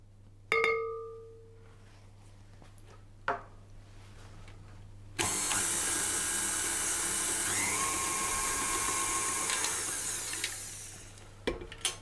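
Electric mixer creaming shortbread dough with sugar, egg and vanilla for chocolate shortbread, a steady high motor whir starting after a few light kitchen knocks and running for about six seconds before winding down.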